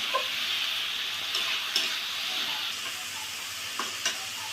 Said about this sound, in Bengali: এবার আমি আর একটুখানি নাড়াচাড়া করে তারপর এর ভিতরে দিয়ে দেবো একটু জল।